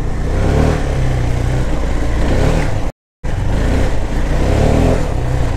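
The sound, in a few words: motorcycle engine revving in second gear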